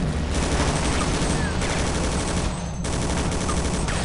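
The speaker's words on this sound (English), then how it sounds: "Next, you'll get a bullet hose of an SMG with pretty good range and not much bloom." An SMG fires in the shooter game Half-Life: Delta Particles: long, loud, continuous rapid-fire bursts with brief pauses between them, dense and close.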